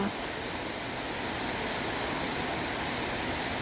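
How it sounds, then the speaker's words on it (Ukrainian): A waterfall in the small Alpine town of Hallstatt, Austria, makes a steady, broad rushing roar of falling water. It is moderately loud and constant, with no voices. "Це водоспад."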